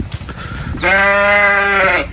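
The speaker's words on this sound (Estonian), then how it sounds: "lammas ütles mää" A sheep lets out one loud, close bleat lasting over a second, a strained and wavering cry that follows a moment of faint background rustle.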